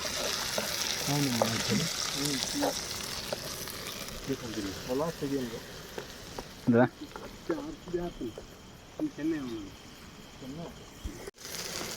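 A tomato, onion, ginger and garlic paste fries in ghee at a falls campsite, giving a soft sizzle under someone talking, with insect chirps in the background.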